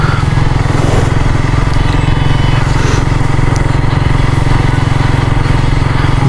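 Suzuki GSX-R150 motorcycle engine running steadily at a practice ground, a loud, continuous low throb with an even pulsing rhythm close by, no voices.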